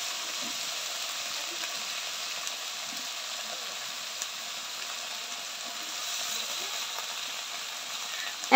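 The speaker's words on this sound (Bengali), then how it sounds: "অল্প একটু তেলে বেগুনগুলো দিয়ে দিয়েছি" Eggplant pieces fry in a little oil over a clay stove, giving a steady, soft, even sizzle and hiss that continues without a break. No one talks.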